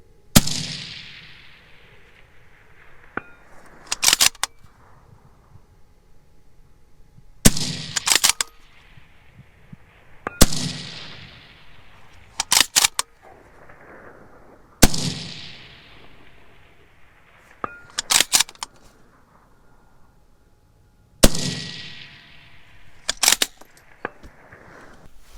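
Shots from a UPR15 gas gun at a steel plate target: sharp single reports repeat every few seconds, each followed by a distant metallic ring of impact, with quiet pauses between.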